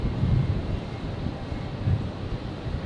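Virgin flight 973 from Sydney arriving at Brisbane Airport: a steady, broad jet rumble with wind-like roar that holds at a fairly even level throughout, with no voices.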